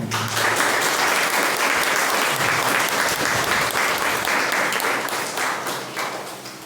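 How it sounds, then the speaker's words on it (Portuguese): Sustained audience applause at a church service, a dense steady wash of many hands clapping that holds strong throughout and eases slightly toward the end, with no talking. "é uma salva de palmas"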